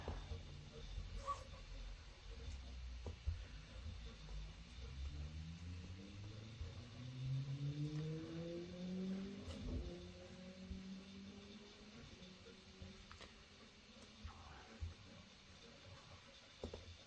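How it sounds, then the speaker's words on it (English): A son's motorcycle passes outside, its engine note rising and falling as it goes by, faint and distant beneath steady indoor room noise. "That was my son on his motorcycle."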